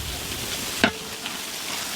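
Chili powder drops into tuna pickle masala frying in a pan, giving a soft, continuous sizzle with one sharp scrape or clink of stirring near the middle and a lighter one later.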